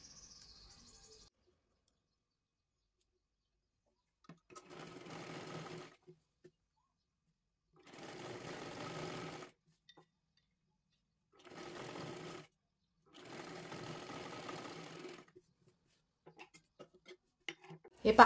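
An electric sewing machine runs in four short bursts of steady whirring stitching on a blouse, separated by near silence, with a few light clicks at the end.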